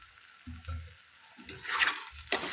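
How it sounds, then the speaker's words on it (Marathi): Paneer pieces fry in a pan with soy sauce for dry paneer chilli, crackling and sizzling close by as a spoon scrapes and clatters through them in short, uneven bursts. "त्यामध्ये आता मी हे पनीरचे तुकडे टाकते."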